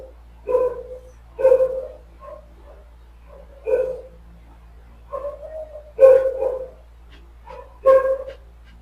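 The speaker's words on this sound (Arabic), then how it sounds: "في كلب بره بيهوى." A dog barks outside in a string of separate woofs and yelps, roughly seven over several seconds, moderately loud and a little distant over a low background hum.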